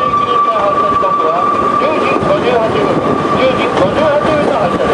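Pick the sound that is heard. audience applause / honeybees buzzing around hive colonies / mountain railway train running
mountain railway train running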